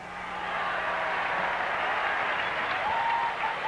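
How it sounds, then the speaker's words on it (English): Baseball fans in a stadium clap for a catch in the loge seats, producing a steady, dense applause that swells quickly and holds to the end, heard at a distance with faint crowd murmur. "The fans applaud a nice catch by somebody in the loge seats."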